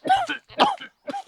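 A man coughs in a village, three harsh, throaty bursts in quick succession, close and loud with short gaps between them.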